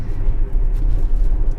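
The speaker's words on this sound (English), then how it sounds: "You can hear a lot of the road noise" Steady low rumble of road noise inside a Tesla SUV cruising on a 30 mph road, a continuous dense drone with no talk over it.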